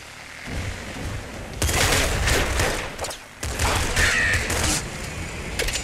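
Automatic weapons fire in the Nuclear Throne video game. Rapid bursts of shots come in two dense runs, separated by a short lull, with game effects mixed in.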